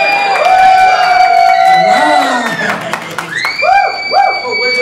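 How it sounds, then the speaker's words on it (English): Indoor audience cheering and shouting as loudly as possible, a dense wash of whoops and high-pitched yells from children and adults, close and loud throughout. "when I say go, I want everybody to make as much noise as possible"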